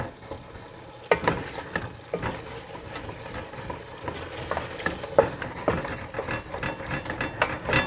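Wine deglazing a hot soup pot for asparagus soup on a high burner, with a spoon stirring and scraping the bottom amid soft sizzling, irregular close scrapes and occasional knocks, no speech.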